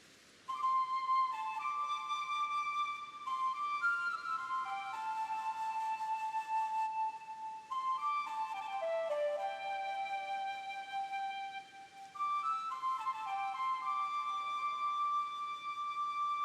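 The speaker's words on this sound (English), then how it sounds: "I do love the flute. Feels as if its tones carry to the very ends of space." Flute melody from the Pokémon Legends: Arceus video game, a clear, sustained tune of shifting notes with a bright, airy tone, playing steadily alone for the whole stretch with no talk over it.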